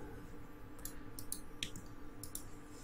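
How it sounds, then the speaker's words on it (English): Quiet, sparse mouse clicks made while color grading in Premiere Pro on a computer, a few short, sharp ticks spaced irregularly over a low steady background hum. "control clicking to remove something"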